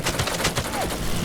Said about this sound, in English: You do. He's shooting.